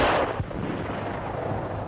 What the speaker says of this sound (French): Il faut attaquer au fusil.